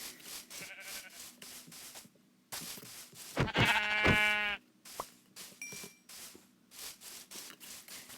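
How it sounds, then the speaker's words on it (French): A sheep in a city-building video game gives one loud, drawn-out bleat in the middle, with soft clicks and tapping before and after it. "Viens par ici, petit mouton."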